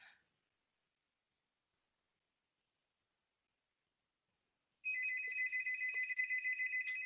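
A desk phone rings from an alarm notification call in an industrial alarms setup, a short chirp, then silence, then a steady electronic trilling ring starting later and continuing to the end.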